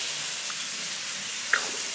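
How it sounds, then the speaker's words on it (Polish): Onion frying quickly in a pan with minced meat, a steady soft sizzle and hiss running throughout, with one brief small pop near the end. "Cebulę też tutaj smażę na szybciutko"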